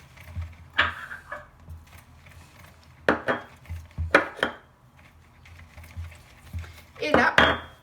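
A spoon or utensil scrapes and knocks in a bowl while biscuit dough is mixed with vanilla sugar, giving irregular clattering bursts against a quiet background.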